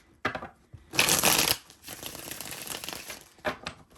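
Tarot cards are shuffled close up: a brief riffle, then a long rapid flutter, followed by softer taps and a final quick riffle.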